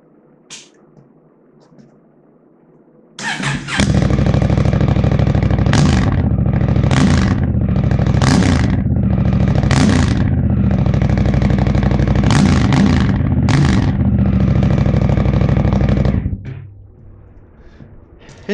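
A Honda Africa Twin motorcycle with its exhaust baffles removed starts up loud and close, then idles and revs hard in repeated surges for about thirteen seconds before cutting off.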